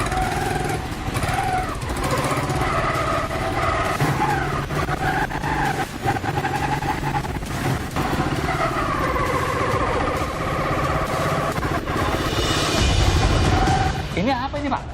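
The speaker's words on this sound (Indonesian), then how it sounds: "Saudara, saya ingin mencoba motor ini." A motorcycle said to run on pure water fuel is ridden with its engine droning steadily and loudly throughout, with pitch wavering as the throttle shifts. Talk is heard over it at times.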